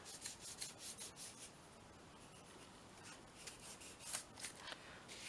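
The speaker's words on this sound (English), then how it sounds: "Just rub it with your fingers." Fingers rub paper for a mixed media collage envelope topper, a soft continuous scratchy rustle with a few brief louder strokes, quiet and close with no talking.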